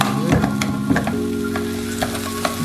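A spoon stirs and mashes tomato chutney in a hot frying pan, with a steady close sizzle of frying throughout and a few louder scraping, stirring knocks near the start.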